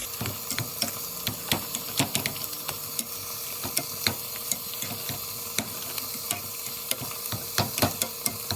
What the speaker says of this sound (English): I am going to mash my potatoes with this masher until they get the consistency I want